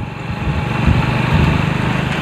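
A motorcycle engine runs steadily and fairly loud while the bike is ridden through town lanes during a mileage test, holding an even, unbroken drone with slight pulsing and no talk.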